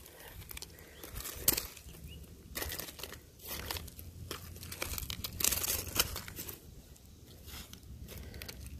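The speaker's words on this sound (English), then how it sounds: "you can take the layers of rock, you can fold through them" Layers of shale rock in an old strip mine being flipped apart and broken, giving rough crumbling, crunching and tearing scrapes in bursts, fairly close, with no talking.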